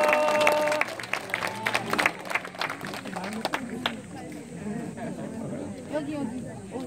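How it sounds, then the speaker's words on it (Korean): Audience applause at a Korean mentoring program gathering, a burst of dense clapping at the start that thins out into scattered claps and room murmur. "저희 더 열심히 힘내서 할수 있도록 박수 한번"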